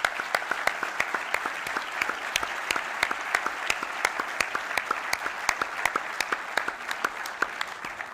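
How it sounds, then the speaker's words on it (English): Sustained audience applause at a naval ceremony announcing the 14th Master Chief Petty Officer of the Navy, with dense, steady clapping and sharp individual claps standing out throughout, loud and close. "give yourself a quick round of applause"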